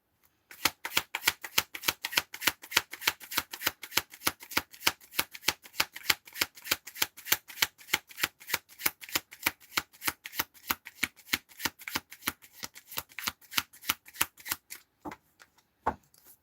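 A deck of playing cards is shuffled again and again, giving rapid, crisp riffling bursts in a quick, regular rhythm, close and clear, with a short pause near the end and no talking.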